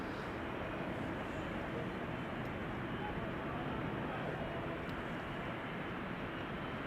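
An EasyJet Airbus A320neo lands at Amsterdam Schiphol, a faint, steady broadband engine rumble with no distinct changes across the short stretch.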